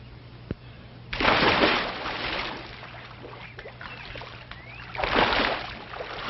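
Someone dives into water and swims: a loud, close splash, then smaller sloshing and dripping, and a second heavy splash a few seconds later, with no talk.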